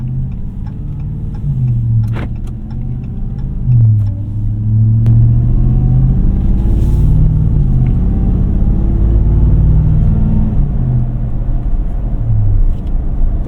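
A 2022 Ram TRX pickup truck's engine while driving on streets, a deep steady rumble with repeated throaty surges as the throttle opens and eases, close and alone.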